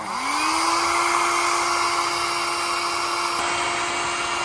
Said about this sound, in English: I'm gonna blow dry my pillow